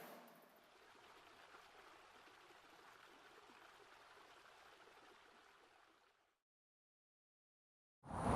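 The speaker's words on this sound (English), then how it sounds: "right now you can see the water is actually going underneath the gates" Floodwater rushes steadily beneath flood gates leading into a river, a constant broadband wash that holds evenly for about six seconds before cutting to silence and then an abrupt loud sound.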